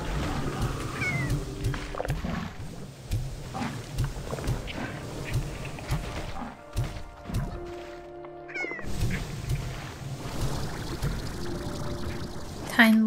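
Cartoon kitty cat in the Slime Rancher video game meows a few times amid busy game music and sound effects, with a faint voice occasionally underneath.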